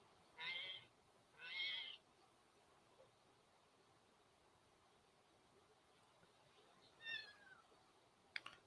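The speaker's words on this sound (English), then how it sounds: "That was supposed to be a cat sound." Three short cat meows as a sound effect, two close together near the start and a fainter one later, thin and high over a quiet hiss.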